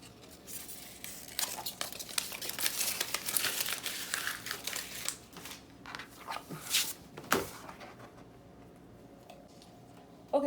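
Heat transfer vinyl peeled off a cutting mat, a run of close crinkling and crackling rustles with a few sharper ticks, ending in a quick snap, with no talk.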